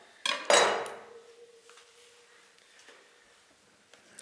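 A kitchen knife cuts the tip off a kohlrabi on a cutting board: two close, sharp clacks of the blade hitting the board, then a quiet ringing tail and low background rustle.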